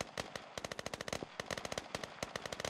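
Steady bursts of automatic rifle fire laid down as suppressing fire in the military shooter Squad, a rapid rhythmic chatter of fairly quiet, distant-sounding shots with no voices.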